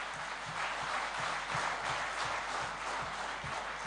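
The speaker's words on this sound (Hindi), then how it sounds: "तालियां बजाइए उनके लिए।" An audience at the Tamil Nadu Convention 2024 breaks into applause, a fairly faint, even patter of many hands over a steady low electrical hum.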